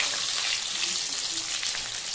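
Onions frying in a pan for a drumstick (sahjan) vegetable curry, giving a loud, dense, continuous sizzle close by, steady throughout with no voice over it.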